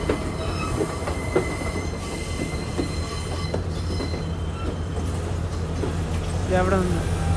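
The Podi Menike Express pulls into a Sri Lankan station with a steady rumble, rattling carriages and high wheel squeal near the end, while people talk throughout.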